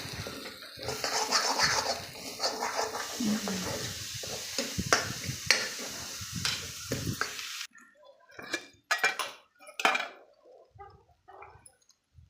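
Raw plantain and egg frying together in a pan, a broad sizzle with scraping and clinking from stirring for several seconds, then the hiss drops away and only sharp, intermittent utensil knocks against the pan remain.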